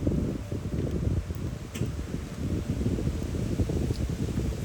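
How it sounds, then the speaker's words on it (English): Steady low wind buffeting the microphone, a continuous rumbling rush with no voices. "it's very windy today"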